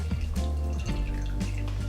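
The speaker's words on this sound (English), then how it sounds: "now we're going to pour the chicken into this bowl. Make sure you pour the sauce into the bowl." Cooked chicken and sauce poured into a bowl: a continuous wet, splashing trickle with small drips and plops, fairly close and steady throughout.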